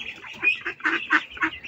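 Ducklings and geese on a poultry farm call in a quick series of nasal honks and quacks, several overlapping bursts close by and fairly loud, with no talking.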